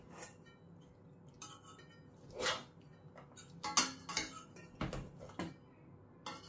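Cooked rice is stirred in a pot for burong hipon, giving soft scraping and a few sharp spoon clinks against the metal, fairly quiet and irregular with no talking.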